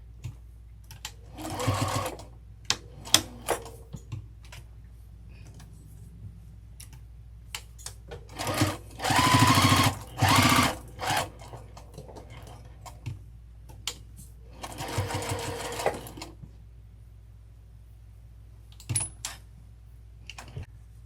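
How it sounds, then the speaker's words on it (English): Sewing machine top stitching the side of a fabric crossbody bag, sounding in several short bursts of rapid mechanical stitching separated by quiet pauses, close and clear with no talking. "and just top stitch all the way down"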